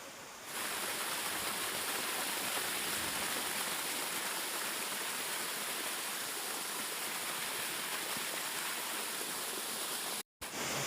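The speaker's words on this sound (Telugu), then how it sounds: "ఈ వాటర్ ఫాల్ అయితే ఖచ్చితంగా విజిట్ చేయాలి మీరైతే" Water from a waterfall at a garden site crashes down in a dense, constant roar, steady and close, broken only by a split-second gap near the end.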